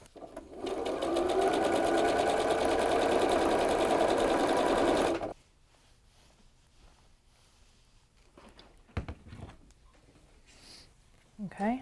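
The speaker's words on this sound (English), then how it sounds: "Okay, so now I'm just gonna sew those together." A sewing machine stitches quilt fabric pieces together, a loud rapid mechanical whir for about five seconds before stopping, followed by quiet handling noises and a few faint clicks.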